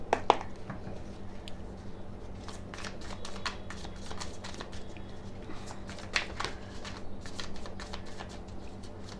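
Tarot cards are shuffled steadily with a soft papery riffle and light slapping taps throughout, fairly close and quiet, with a couple of sharper clacks near the start.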